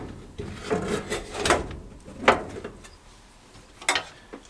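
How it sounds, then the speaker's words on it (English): A furnace's upper sheet-metal panel is refitted, giving several sharp clunks and knocks spaced irregularly, close and fairly loud, with quieter handling rustle between them. "Now we'll reinstall this upper panel"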